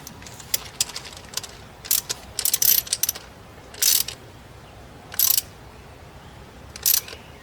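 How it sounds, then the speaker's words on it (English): A hand ratchet tightens an 8mm bolt on an Injen cold air intake fitted to an E210 Toyota Corolla, clicking in short bursts of rapid pawl ticks separated by brief pauses, close and crisp against a quiet background. "So we get that cranked down with the 8mm."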